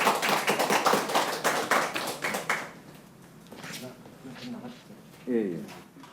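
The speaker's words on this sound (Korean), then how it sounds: "이목희 그전 일자리 위원회 부위원장님께 뜨거운 박수 다시 한번" An audience at a regional presidential-election forum in Gyeongbuk claps in rhythmic unison for a former jobs committee vice-chairman, with sharp regular beats that stop after about three seconds, followed by quieter room noise and voices.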